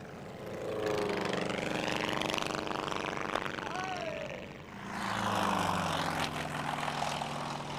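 A Rollason Turbulent light propeller plane flies a display at an airshow, its engine droning loudly, rising and falling in pitch as it passes overhead and then swells again.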